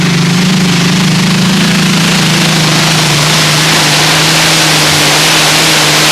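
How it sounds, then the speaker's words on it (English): A pulling tractor's engine roars at full throttle during a 1996 European tractor pulling championship run, a loud steady drone with a deep low hum throughout, saturated and unbroken. "Hayes Sitzling really gave full throttle all the way."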